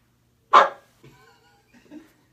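A person imitates a puppy's bark with one sharp, loud yap, followed by faint murmuring voices.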